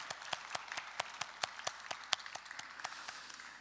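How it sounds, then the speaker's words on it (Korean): Fairly faint, steady clapping in a quick even rhythm from a congregation at a Korean young adults' Sunday church service, heard with no talking. "하나님께 영광의 박수 올리겠습니다."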